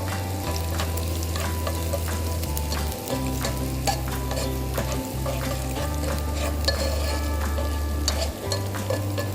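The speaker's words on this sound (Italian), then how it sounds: "facciamo rosolare la nostra cipolla" Onion sautéing in a pan for bucatini with sardines, a steady loud sizzle with scattered stirring clicks over a low droning hum, no voices.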